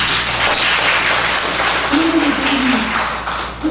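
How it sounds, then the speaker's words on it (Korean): Sustained applause from a church congregation during a service, a dense wash of clapping that holds steady throughout, with a low hum beneath. "박수 한번 치고"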